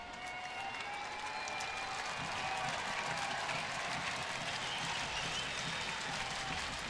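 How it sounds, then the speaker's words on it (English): Baseball stadium crowd in the bottom of the first inning with a full count and two outs, cheering and applauding steadily throughout, a broad roar with clapping that swells slightly midway. "Crowd coming to life a little bit here in the bottom of the first"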